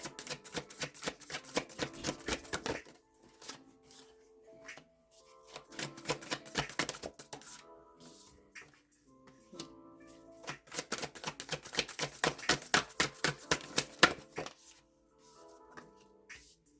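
A deck of cards is shuffled close by in several riffling bursts, each a rapid run of crisp flutters and snaps, separated by quiet pauses and lighter taps.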